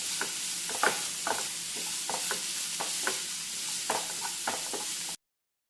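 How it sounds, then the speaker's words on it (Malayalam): Sliced onions for broken wheat upma sizzle steadily in a pan while a spoon stirs them. Repeated close scraping knocks land in an irregular rhythm over the frying hiss, then everything cuts to silence. "ഇനിയും സവാള എല്ലാം ഒന്ന് ഇളക്കി ഒന്ന് ഹാഫ് കുക്കാക്കി എടുത്താൽ മതി"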